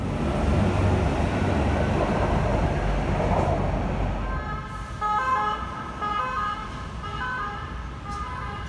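A metro train in Barcelona rumbles loudly at first, then as it slows the roar eases into a quieter hum with steady whining electric motor tones.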